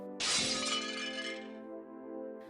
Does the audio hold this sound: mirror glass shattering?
yes